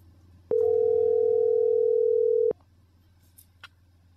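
A single steady telephone tone rings out for about two seconds on a call center agent's outbound call back to a customer, loud and clear over a low background hum, then cuts off abruptly.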